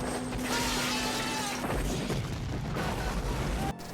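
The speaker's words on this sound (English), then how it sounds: "plenty of explosion" An explosion in a raid scene from the 1980s film Predator produces a loud, continuous blast of crashing, shattering debris and rumble that holds for several seconds before dropping off abruptly.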